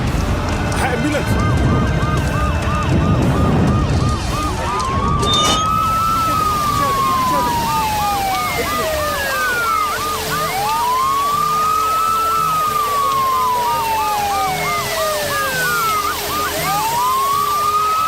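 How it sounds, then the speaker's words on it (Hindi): Ambulance siren wailing in long rising and falling sweeps, loud and close, summoned to a factory fire; a short burst of voices and clatter opens before the siren carries on alone with a low engine hum beneath. "एम्बुलेंस।"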